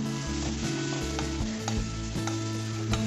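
Lemon leaf chutney being stirred while frying in a hot pan, a loud steady sizzle broken by repeated scraping strokes of the spoon, close and without talk.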